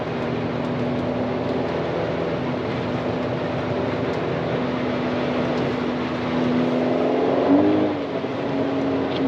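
A car rolls along a snow-covered road on directional Nexen Winguard Sport 2 winter tires, giving a steady, close engine drone and tire rumble that swells slightly near the end.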